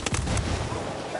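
A frag grenade goes off in Ghost Recon Wildlands, a single loud, close burst with a heavy low rumble that rolls on and fades slowly over about a second.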